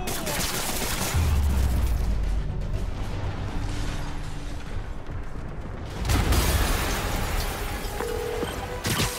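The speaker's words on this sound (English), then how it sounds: "an explosion just- I saw it." Blasts and heavy rumbling from an explosion in Spider-Man Remastered, with two deep booming bursts amid crashing debris and gunfire-like cracks.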